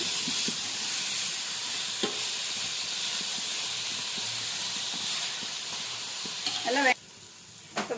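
Onions cooked with salt sauté in a pan with a steady, hissing sizzle and occasional scraping stirs, until the sizzle suddenly drops away near the end and a few clatters follow.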